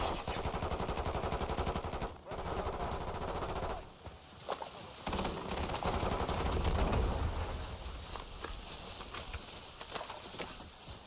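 Continuous automatic gunfire in the Warzone video game, dense and loud rapid bursts with brief pauses, then renewed shooting and scattered impacts near the end.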